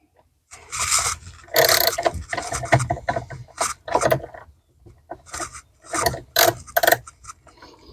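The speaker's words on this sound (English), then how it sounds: "Get our wrench on here." A ratchet wrench tightens a bolt on the wiring of a Renogy solar charge controller in an RV motorhome, giving close, loud bursts of ratcheting and scraping clicks with short pauses between them.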